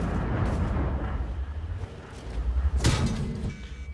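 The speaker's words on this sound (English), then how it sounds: "the STRV just shoot me once in the butt, and actually he put 2 more rounds in my butt and actually bounced" World of Tanks shells striking and bouncing off the rear armor of an MTLS-1G14 tank: a rumbling engine bed broken by a sharp, loud metallic impact near the end, followed by a ringing tail.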